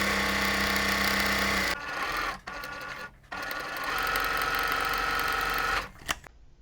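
A sewing machine runs fast stitching quilt block seams along drawn lines, a dense continuous whirring up close, broken by two short stops before finishing and winding down.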